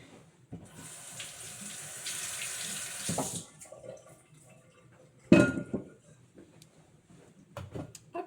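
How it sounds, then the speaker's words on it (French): A kitchen tap runs into a sink for a few seconds while something is rinsed, followed by a clatter of dishes and a few fainter splashes and handling sounds nearby. "Je vais rincer un petit coup."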